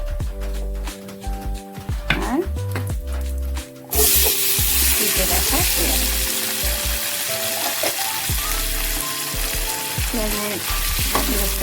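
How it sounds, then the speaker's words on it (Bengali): Whole garam masala frying in a kadai gives loud, steady sizzling that bursts in after a quieter opening, with scattered stirring scrapes throughout. "কড়াই দিয়ে দিলাম গোটা গরম মশলা"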